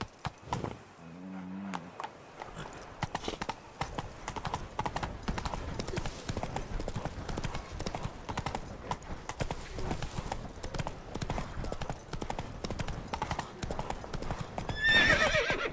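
Horse hooves clip-clop in a steady trotting rhythm in The Witcher 3 video game, with a brief whinny near the start and game sounds layered over the continuous hoofbeats.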